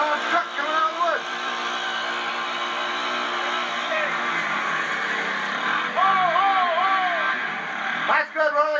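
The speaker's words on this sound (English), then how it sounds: "Well, we got a Dodge truck coming out of the woods." A 1987 Honda Fourtrax ATV pulling a Dodge Raider truck out of mud: a steady engine drone holds throughout, rising and wavering as the engine strains, with people talking over it.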